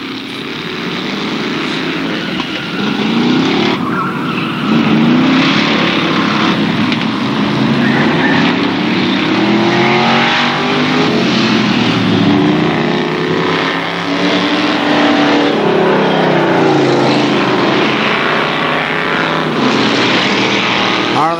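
ARCA SuperCars stock race cars lap KilKare Speedway in 1995, a loud, continuous roar of several engines whose pitch rises and falls as the cars pass, running for the whole stretch.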